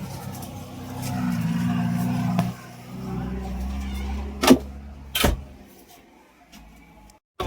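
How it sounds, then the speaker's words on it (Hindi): JCB backhoe loader diesel engine cranking and catching, with a rough low rumble that drops off, then a couple of sharp clanks and bangs before it quiets. "तो भाई फाइनली गाड़ी स्टार्ट हो गया दोस्तों।"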